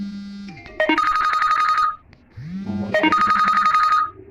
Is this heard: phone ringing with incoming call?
yes